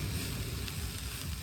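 Food cooking over a low flame on a portable stove on a beach, giving a soft continuous sizzle and hiss with a faint low rumble of wind behind it, steady and unbroken with no voices.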